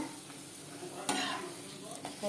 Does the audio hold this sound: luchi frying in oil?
yes